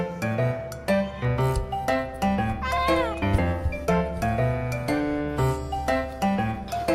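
A cat meows over and over in drawn-out, wailing calls that bend up and down, loud and close throughout with almost no pause between them.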